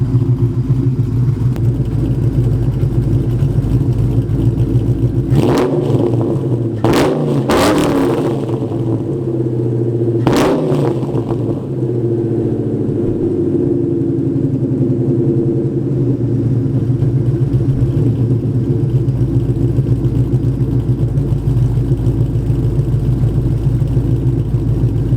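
Nitrous Ford Mustang V8 idling loudly up close with a deep, lopey rumble; a few short, sharp throttle blips punch through early on, then the idle settles back to a steady drone.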